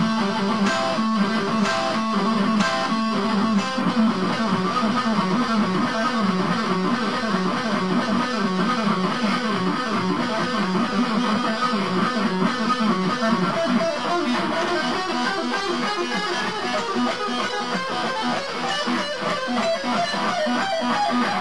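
Electric guitar plays the full solo from a song, a continuous dense run of fast distorted lead notes at steady loudness with no talking throughout.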